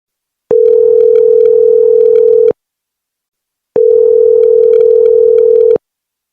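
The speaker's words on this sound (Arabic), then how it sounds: "رنت عليه مرة واتنين وتلاتة وما كانش بيرد." A phone ringing tone on a call that goes unanswered sounds as two long, steady, loud electronic tones separated by a pause of silence.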